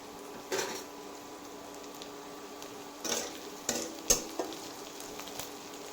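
Onions fry in mustard oil for chicken curry with a soft, continuous sizzle, broken by a few sharp clinks and scrapes as a utensil stirs the pan.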